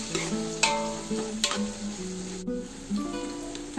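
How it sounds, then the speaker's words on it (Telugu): Onions frying lightly in a pot for Ambur-style mutton biryani: a soft continuous sizzle up close, broken by a few sharp clinks and scrapes of a spoon against the vessel. "ఆనియన్స్ కొద్దిగా ఫ్రై చేసుకోవాలండి"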